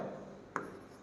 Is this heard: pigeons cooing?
no